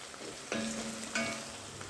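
Small onions with ginger-garlic paste sauté in a pan for a chicken kulambu, giving a steady, soft sizzle with two brief stirring scrapes about half a second apart and no talking.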